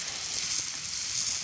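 Butter sizzling around mackerel frying in a pan, a loud, dense, unbroken hiss and crackle that holds steady throughout without any talking.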